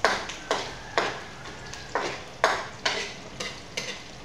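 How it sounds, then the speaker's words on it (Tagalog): Garlic and onion sauté in a pan while a spatula scrapes through them in a steady rhythm, about ten quick strokes over a faint continuous sizzle. Close and clear, with no talking. "Lutuin muna natin na maigi ang bawang at onion."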